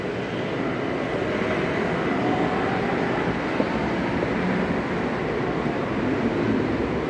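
A BTS Skytrain train in Bangkok rumbles steadily alongside a station amid tall city buildings, a continuous broad roar holding at an even level for the whole stretch with no voices.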